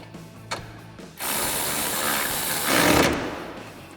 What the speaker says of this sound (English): And tighten it down with our 13mm socket.